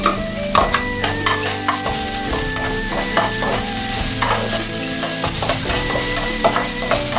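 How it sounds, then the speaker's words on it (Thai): Shallots stir-frying in a small amount of oil for turnip cake, a loud close sizzle broken by repeated scrapes and clinks of a utensil against the pan, continuous with no talking. "เราจะใช้น้ำมันแค่พอผัดหอมให้สุกนะคะ"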